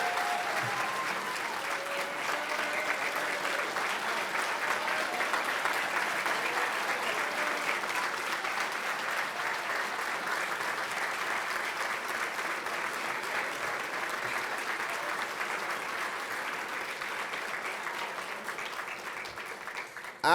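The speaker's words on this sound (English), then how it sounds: "Please help me congratulate all of our award recipients with one more" A banquet audience at a school academic excellence event claps steadily for award recipients in a long, even wash of applause that holds at a constant level from start to finish.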